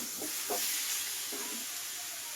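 Curry sautés in a pan with a continuous loud sizzling hiss, broken by a few brief scraping stirs of the spoon.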